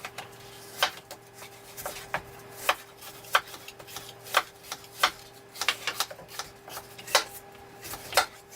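Apples being sliced with a knife on a cutting board for apple pie, giving a series of sharp, irregular taps and cuts close by, with quiet gaps between strokes.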